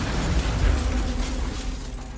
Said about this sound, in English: The bombs detonate upon opening,